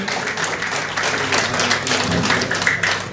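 An audience applauds steadily and loudly to welcome a newly appointed cabinet minister, Shyam Singh Rana, the state agriculture minister, at a stage event in Karnal, with a voice faintly audible beneath the clapping.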